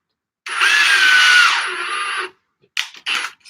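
A power drill whirs loudly and steadily for nearly two seconds during a live PC build, dropping in pitch near the end, followed by two short bursts.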